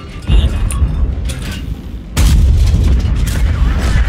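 Tank cannon firing in the World of Tanks video game, a heavy booming shot that lands partway in and leaves a loud, sustained rumble after a quieter mechanical din.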